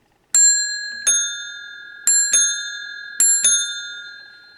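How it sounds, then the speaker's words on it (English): The bell of an old telephone is struck in sharp metallic dings, some in quick pairs, each ringing out and decaying cleanly against silence. "Your bell, which is rather nice."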